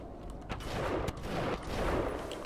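Gunfire rattles in the video game BioShock, a few bursts of rapid shots with sharp cracks over a busy rumbling game background, moderately loud with no talking.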